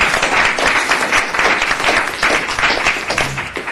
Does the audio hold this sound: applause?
yes